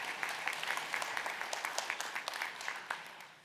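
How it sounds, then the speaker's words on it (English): Audience clapping at a council community forum, a steady patter of many hands filling the room for a few seconds before thinning out at the end. "Should we give them a round of applause?"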